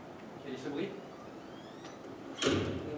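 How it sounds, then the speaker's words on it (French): Heavy doors are shut and bolted on stage during an opera performance of Pelléas et Mélisande at the Théâtre de la Cité, with soft sliding and knocking noises, then a louder thud of a closing door over a steady hall murmur. "On ferme les portes. Ferme les portes."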